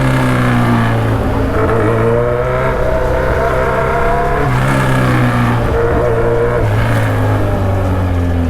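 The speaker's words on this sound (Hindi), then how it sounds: "कोई एग्जॉस्ट इससे ज़्यादा लाउड नहीं हो सकता।" A car fitted with an extremely loud aftermarket exhaust revs hard, a deep sustained roar with rising and falling pitch that stays close and overwhelming throughout.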